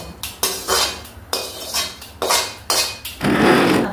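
A spoon scrapes and clinks rhythmically against a pan while roasted spices and asafoetida are stirred together in oil, giving repeated metallic strokes and then a sizzling swish at the end.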